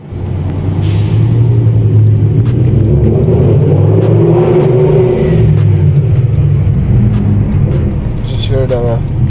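A BMW E60 M5 with Evolve headers rumbles loudly and continuously at close range inside a basement parking garage, the deep engine note booming off the walls, with a voice speaking over it.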